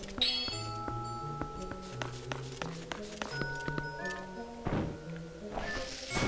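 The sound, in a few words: cannon firing in Zelda Twilight Princess video game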